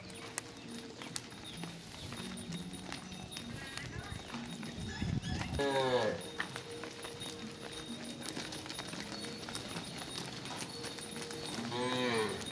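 Cattle being driven into their pen at evening, lowing repeatedly near and far over a steady windy outdoor rumble, with a few hoof clops and people talking in the background.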